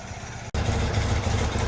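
An old motorcycle engine idling after sitting unused for more than twenty years, a steady close mechanical drone that cuts out briefly for an instant, then resumes at full, even loudness.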